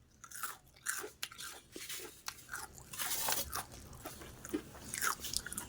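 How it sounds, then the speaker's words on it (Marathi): Crispy deep-fried sabudana vada is bitten and chewed up close, giving a run of sharp, irregular crunches and crackles throughout, with no talking. "तुम्हाला कुरुम कुरुम आवाज येतच असेल"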